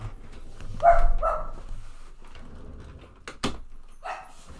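A dog barks indoors near the microphone, a few sharp barks with short whimpering yips between them, spread irregularly over a few seconds.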